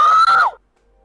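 A voice imitates a short, strained scream into cupped hands, loud and muffled, sliding down and cutting off into silence after about half a second.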